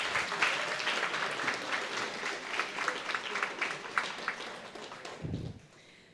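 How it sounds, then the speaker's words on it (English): Hackathon participants at HackManchester Junior giving themselves a round of applause, dense clapping from a crowd that continues for several seconds before fading, with a low thump near the end. "can everyone just give themselves a round of applause for taking part in HackManchester Junior?"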